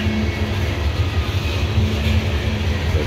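A long, heavy CSX coal train with 418 axles grinds steadily along the old B&O mainline on a grade through curves, a continuous low rumble and wheel roar with a faint hum, loud and close.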